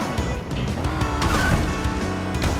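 A kart in Crash Team Racing driving into a corner without air braking, its engine droning loud and close with tire squeal as it takes the turn, all within a couple of seconds.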